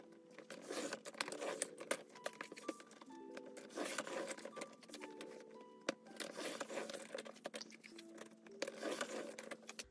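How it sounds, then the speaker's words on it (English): Scissors cut a picture out of paper with close, quiet snips and crinkles in irregular bursts, the paper rustling between cuts and no one speaking. "So we're just gonna try and cut the picture out."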